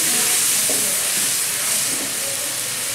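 Fish curry broth for a Bengali-style bhangan fish curry with cauliflower and potato bubbles in a pot, a steady close hiss of boiling and steam with faint soft pops underneath.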